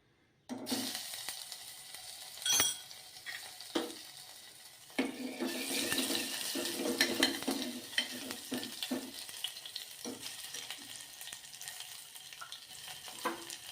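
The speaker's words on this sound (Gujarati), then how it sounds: "તો આપણું તેલ ગરમ થઈ ગયું છે તો એમાં સૌપ્રથમ આપણે આદું અને લસણ આપણે આટલું જ એડ કરવાનું છે" Ginger and garlic drop into hot oil for a vegetable soup and sizzle loudly and steadily in the pan. Scraping stirs and clinks come through close by, with no one talking.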